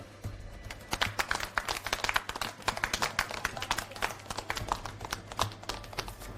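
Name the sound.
applause welcoming newlyweds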